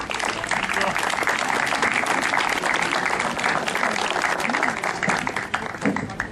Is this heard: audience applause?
yes